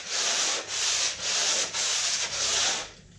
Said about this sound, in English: 4 sanding blocks glued onto a piece of wood, attached to an old floor cleaning mop thing